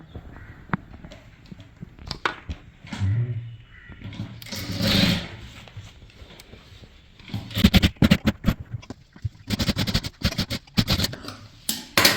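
Sewing machine joining sleeves on a maxi dress, heard in uneven bursts of rapid clattering stitches separated by handling noises and pauses, close by and fairly loud in the later part.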